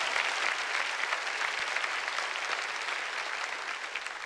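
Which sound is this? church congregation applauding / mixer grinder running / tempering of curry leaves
church congregation applauding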